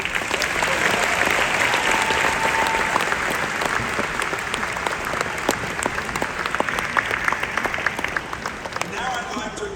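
A graduation audience at a UMBC ceremony applauds in a sustained, dense burst of many hands clapping, loud and steady, fading slightly toward the end.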